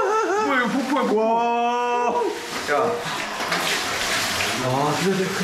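A hot spring waterfall splashes and pours continuously at close range, and excited voices talk and exclaim over the rushing water.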